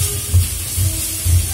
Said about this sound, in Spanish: friendo la carne